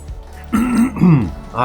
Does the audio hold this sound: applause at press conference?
no